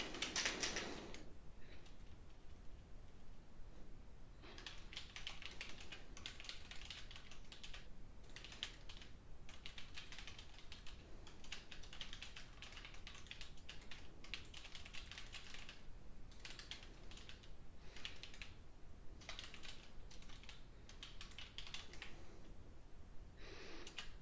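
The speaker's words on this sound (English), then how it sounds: "so I typed in a message" Steady, close typing on a computer keyboard as a message is entered, with a continuous patter of key clicks and brief pauses over a hissy background, with no talking.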